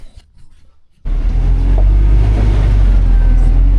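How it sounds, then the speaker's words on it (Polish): After a second of quiet, a vehicle arriving for loading during a potato harvest rumbles in with a sudden, loud, deep engine drone that holds steady and close to the end. "słyszę, że przyjechało auto na załadunek"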